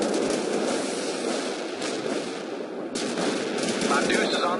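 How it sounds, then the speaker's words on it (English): Heavy machine gun fire in the war video game World in Conflict, a loud continuous rattle of rapid bursts over battle noise, with voiced radio chatter mixed in. "Firing heavy machine gun, sir."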